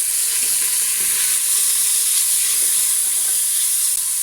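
Food sautéing in a pan with Guérande sea salt, a steady dense sizzle and hiss that stays loud and even throughout with no talking.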